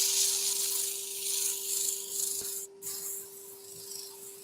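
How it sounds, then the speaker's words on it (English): A wooden hummingbird being turned is sanded with 120 grit sandpaper, giving a steady, soft abrasive hiss that continues throughout over a faint constant hum. "just be a little bit careful when you're sanding"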